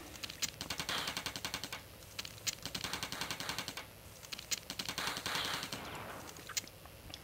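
A submachine gun fires in the arcade shooter Total Carnage, with rapid, loud bursts of gunfire repeating in long runs with brief pauses, alongside game explosion effects.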